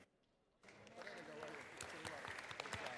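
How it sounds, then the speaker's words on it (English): Applause in the Georgia House of Representatives chamber, starting abruptly and swelling into sustained clapping from a large crowd, with voices murmuring underneath. "Please join me in applauding the McDonough High School NJROTC cadets and their instructors."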